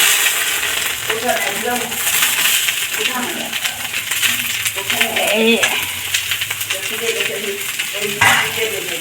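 Bottle gourd pieces fry in a pan for a sweet gourd payesh, giving a busy, continuous sizzle with frequent stirring clatter and utensil clinks against the pan throughout.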